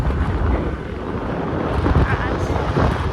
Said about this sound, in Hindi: कितनी अच्छी हवा चल रही है भाई